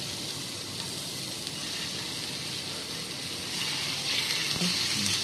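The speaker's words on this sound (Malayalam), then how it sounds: "ഓയിൽ കുറച്ച് ചൂടായതിനു ശേഷം ചിക്കൻ ഫ്രൈ ചെയ്യാൻ നോക്കാം" Chicken frying in hot oil in a pan, giving a steady, dense sizzle that fills the whole stretch and swells slightly louder toward the end, with no talking.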